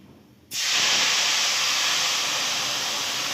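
Dried garcinia slices hit hot oil already holding spices and fried dry red chillies, setting off a sudden loud hiss after a quiet start that then roars on steadily.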